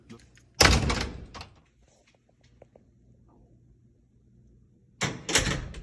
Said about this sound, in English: The second thing you're going to notice is teachers are going to shut their door.